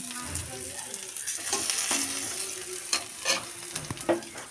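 Turmeric and chili powder hitting hot oil in a pan for vegetable khichuri, giving a steady close sizzle with sharp bursts of stirring and spoon scrapes, and no voices.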